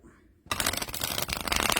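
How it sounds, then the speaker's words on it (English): Tarot cards riffle shuffled up close after a brief quiet moment, a loud dense fluttering burst of card edges snapping together, then a second riffle right after, no talking. "Let's try a riffle shuffle."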